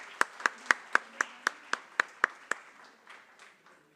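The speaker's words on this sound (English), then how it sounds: "Round of applause, please." Applause at an arbitration conference in a plenary hall: about ten sharp, evenly spaced claps ring out at a steady pace, then fade into a softening patter that trails away.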